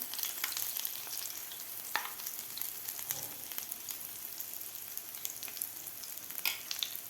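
Capsicum and egg rings fry in a pan, giving a steady close sizzle with crackling pops throughout and no talking.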